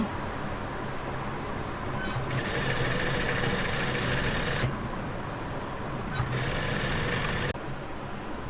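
Sewing machine stitching along the folded edge of a lace neckline, a close steady mechanical whir that runs in two bursts, the first about two seconds long and the second shorter, over a constant background hum.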